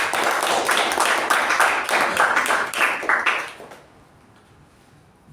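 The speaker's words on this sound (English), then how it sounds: "Let's give him a round of special applause." Applause from a meeting audience for an evaluator, a dense burst of many hands clapping close by for about three and a half seconds, then fading abruptly into near silence.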